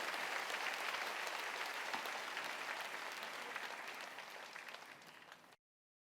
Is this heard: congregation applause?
yes